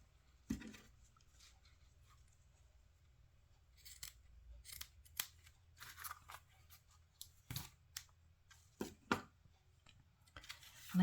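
Scissors snip through paper for layered tags in a string of short, crisp cuts spaced irregularly, close and quiet against a faint low hum.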